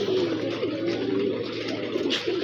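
Pigeons cooing close by, soft low repeated coos that continue steadily through the short moment.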